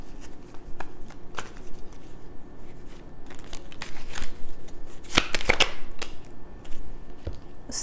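A deck of cards is shuffled for a card reading, quick papery riffles and bridges up close, with a louder burst of shuffling near the end and soft handling sounds between.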